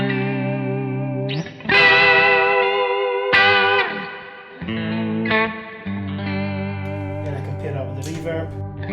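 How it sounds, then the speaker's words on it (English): Sustained electric guitar chords with a wavering vibrato effect from a Line 6 HX Stomp pedal, several strummed changes, played alone and fairly loud. "I've got a vibrato on here from the HX Stomp."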